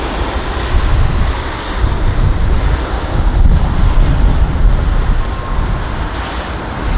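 An Air Canada airliner lands at London Heathrow, its loud, steady jet engine roar and rushing wind noise filling the full stretch without pause, close and powerful, with no voices.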